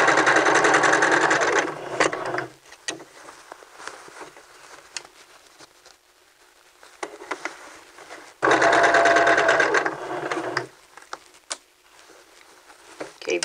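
Sewing machine stitching a seam on a men's vest, two loud, fast whirring runs of about two seconds each, separated by quieter pauses with faint handling noise.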